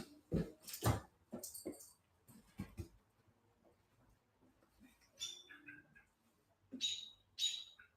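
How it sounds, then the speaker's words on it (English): A bird calls near its nest outdoors, giving sharp, loud chirps in irregular bursts, with quieter twittering and gaps of near silence between them. "I'm not gonna mess with your nest, bird."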